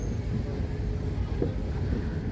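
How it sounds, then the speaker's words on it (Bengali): A train in the Narsingdi countryside of Bangladesh rolls past slowly, a steady low rumble with faint wheel and carriage noise, continuous and moderately close, no voices. "এই যে ট্রেন একটু স্লো মোডে যাচ্ছে"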